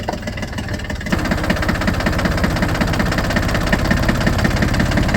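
A diesel tractor engine, just started, runs close and loud with a fast, rough knocking idle that holds steady throughout, with no voices.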